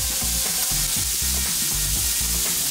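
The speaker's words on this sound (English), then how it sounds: "Stir that around and fry for fragrance." Onion, fresh garlic and red chili powder stir-fried in a sizzling pan, a loud continuous sizzle broken by rhythmic scraping strokes of the stirring spoon, with no voices.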